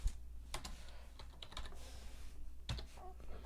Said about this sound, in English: we're gonna go ahead and type logo type